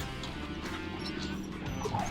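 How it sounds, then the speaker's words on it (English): Dogs bark and yip excitedly in quick repeated bursts beside a campervan before a country walk, fairly close over a steady low engine-like rumble. "Dogs are raring to go."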